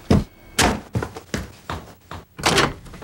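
A door bangs shut with a series of sharp thuds, about half a dozen close, loud knocks and slams in quick succession.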